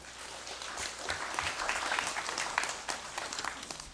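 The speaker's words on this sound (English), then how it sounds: "May we also give them a collective round of applause" Steady applause from a room full of people in a legislative chamber session, a sustained patter of clapping heard from a little distance.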